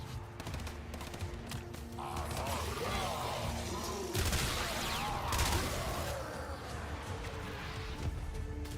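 Gunfire from headshot kills in the video game Warframe rattles on continuously amid explosive crashes and busy game effects, loud and dense throughout with a voice briefly heard beneath.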